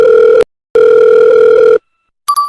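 A telephone calling tone, loud and steady, in two long buzzing bursts separated by silence, then a brief higher-pitched electronic tone at the end.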